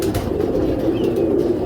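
Pigeons cooing continuously at close range, layered soft throaty coos rolling over one another in a steady murmur, with no voices.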